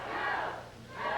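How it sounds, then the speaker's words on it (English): A wrestling arena crowd at a 1987 World Organization Wrestling opening match roars and cheers loudly, swelling, dipping briefly, then rising again in a short burst. "Listen to the crowd, ladies and gentlemen"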